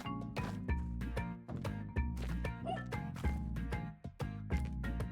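A dog in the platform game Spelunky 2 barks in short, repeated bursts, set against busy game music and effects throughout.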